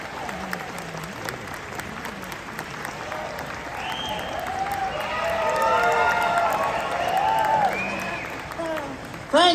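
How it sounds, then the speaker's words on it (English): A theater audience gives a sustained round of applause that swells in the middle, with a few shouts and a voice heard over the clapping. "It's nice to get all that applause without doing anything."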